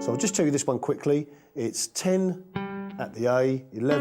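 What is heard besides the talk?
No everyday noises stand out.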